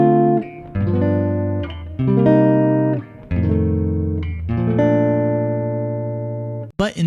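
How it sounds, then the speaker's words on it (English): A jazz guitar plays a traditional sharp-four walk-down progression, a series of sustained strummed chords stepping downward one after another, clear and close with no voices. "A traditional sharp 4 walk down might sound like this"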